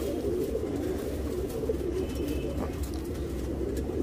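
A pigeon kept as a selected bird for beginner fanciers coos steadily and close by, a low throaty murmur that keeps going without pause and stands alone over faint background noise.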